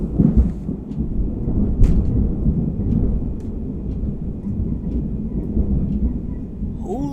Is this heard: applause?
no